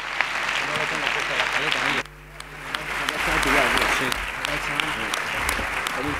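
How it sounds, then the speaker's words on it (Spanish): Audience at a municipal sports awards gala in San Sebastián de los Reyes applauds loudly. A brief dip in the middle cuts the noise, then steady dense clapping resumes with some talk mixed in. "Un fuerte aplauso para ellos."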